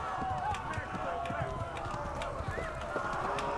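A horse gallops in a medieval open-world video game, its hooves making a steady rapid clip-clop over continuous outdoor game ambience. A person talks throughout in the foreground.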